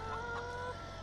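Chickens clucking in the farming video game Farming Simulator 17, a low steady run of soft clucks over a constant ambient background.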